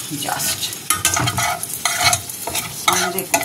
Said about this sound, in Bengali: এবার তেলটা গরম হয়ে গেছে। ওই মাছের তেলটাই যেটা ছিল, একটা শুকনো লঙ্কা জাস্ট ফোড়ন